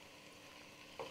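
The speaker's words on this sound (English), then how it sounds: "start frying" Apples and sweet potatoes fry in grapeseed oil on a griddle, giving a steady, soft sizzle close by that runs throughout, with a slightly louder crackling burst near the end.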